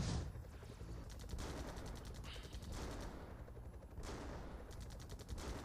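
Gunfire from the AirMech game crackles as rapid, faint bursts of machine-gun-like fire, broken up with short pauses.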